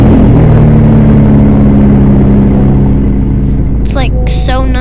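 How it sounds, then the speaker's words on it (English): A car engine cold start, a loud close rumble with a rising rev that settles into a heavy idle, while voices talk over the end. "hear the cold start."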